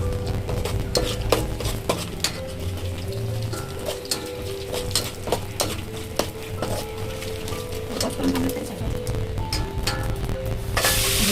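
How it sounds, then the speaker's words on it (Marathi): Cumin seeds tempering and roasting in a pan, a steady close sizzle with frequent sharp scraping and clinking of a spoon stirring against metal throughout. "आता जिऱ्याची फोडणी दिली आहे मी"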